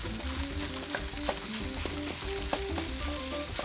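Egg sizzles in a hot pan for pork and shrimp fried rice, with loud continuous frying crackle and faint stirring scrapes close up.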